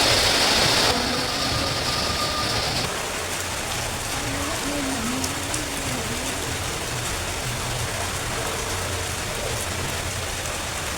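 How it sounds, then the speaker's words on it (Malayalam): Heavy rain falls steadily, a dense close hiss on surfaces that starts louder for the first few seconds and then settles into an even downpour, with no talking. "നല്ല മഴ പെയ്തു."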